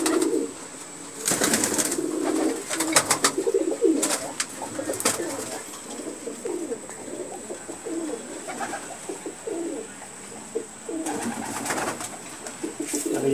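Madrasi pigeons of the Pulsar and Arshad lines coo repeatedly at close range, soft throaty calls recurring in bursts over a steady background hiss, with occasional sharper clicks and movement in between.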